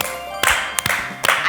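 Three sharp hand claps ring out, spaced roughly evenly and close by, each a brief broadband crack in an otherwise quiet room.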